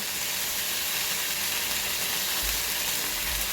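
Pork belly (liempo) frying in its own rendered fat, giving a loud, steady, close sizzle with a constant hiss and a faint low rumble near the end, no voices.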